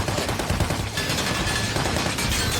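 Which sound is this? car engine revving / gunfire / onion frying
gunfire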